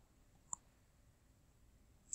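A single crisp computer mouse click sounds in a near-silent room, followed by a second faint click right at the end.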